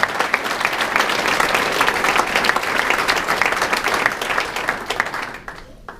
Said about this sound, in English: let's give these girls a round of applause for that